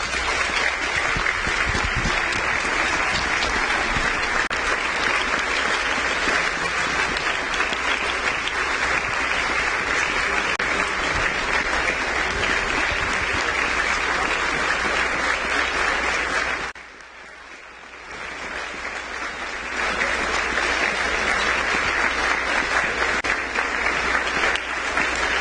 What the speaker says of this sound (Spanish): Un minuto de aplauso para ellos,